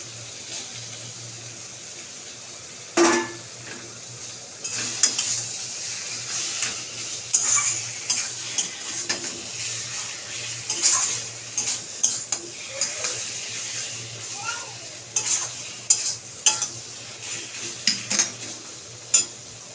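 Prawns tossed in a pan while cooking with taro leaves, a long run of close metallic clinks and scrapes from a stirring spoon over a soft frying hiss, irregular and continuous, with no voices.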